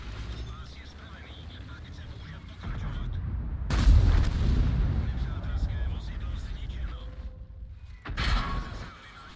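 Artillery shells land in a World of Tanks battle on the Redshire map: two heavy, booming impacts a few seconds apart over the game's background rumble, while someone talks throughout.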